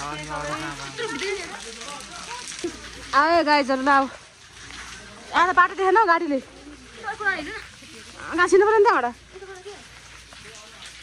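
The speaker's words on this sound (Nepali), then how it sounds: "कसरी जानु पानी परेछ" Rain patters steadily in the background while a person talks in bursts close by.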